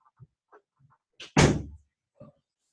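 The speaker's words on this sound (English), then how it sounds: "let me close my door real quick" A room door is pushed shut with one loud, close thunk, framed by a few soft handle and latch clicks just before and after; no one speaks.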